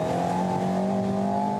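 An Alpine A110 road car engine running on a track lap, a steady close drone with strong harmonic tones as it holds revs, loud and continuous with no talking.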